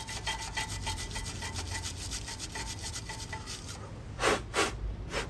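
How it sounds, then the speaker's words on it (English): Brake dust being scrubbed away from around the fitted front pads of a 2019 BMW 1 Series M Sport, a steady close rubbing and brushing that runs throughout, with a few louder, sharper strokes near the end. "Now I'm going to clean brake dust around that area."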